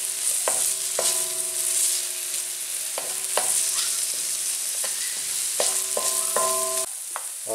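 Garlic frying in a pan for jackfruit in coconut milk, a bright continuous sizzle close by with sharp metallic scrapes and taps of a utensil stirring at irregular intervals, no talking.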